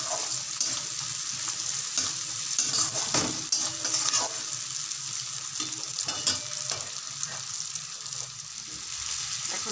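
Food sizzles steadily in a hot pan on a home stove while a utensil stirs it, a constant frying hiss with occasional scraping and clinks, close up and without talk.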